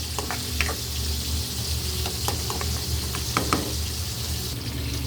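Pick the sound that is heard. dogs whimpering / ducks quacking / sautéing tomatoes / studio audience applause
sautéing tomatoes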